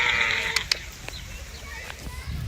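Sheep bleat in a park, a wavering nasal cry starting loud and then trailing off into quieter calls against outdoor background noise.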